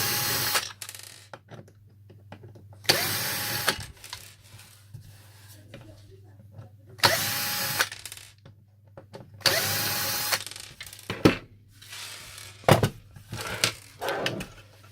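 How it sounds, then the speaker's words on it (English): A power screwdriver whirs in several short bursts while removing screws from each side of a Uconnect Android head unit, close by, with a steady low hum and quiet handling noise between runs. "unscrew these 2 screws here on each side"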